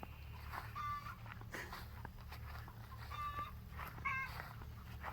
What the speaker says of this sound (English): that chicken is still doing the chicken song